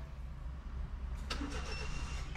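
A Suzuki DA64W 4x4 van runs at a low rumble through a cold start, a steady engine note with a brief rise in pitch partway through, heard close.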